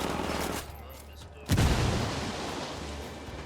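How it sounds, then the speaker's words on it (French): Gunfire in the video game Ghost Recon Wildlands: a loud burst of shots breaks out mid-clip and its rumble trails off, with voices talking around it. "Je tire."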